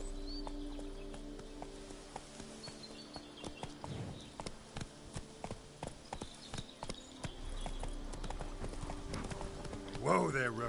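Roach the horse's hooves clip-clop at a steady trot in The Witcher 3, set in Toussaint, a regular series of close, crisp hoofbeats over a humming ambient bed, with a voice briefly calling near the end.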